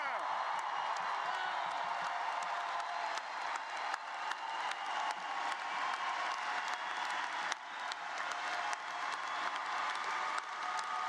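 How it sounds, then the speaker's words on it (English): Emerson College commencement crowd cheering and applauding for the class of 2024, a steady wash of massed clapping with whoops and shouts rising throughout, fairly distant and continuous. "I want to hear the loudest cheer for the class of 2024."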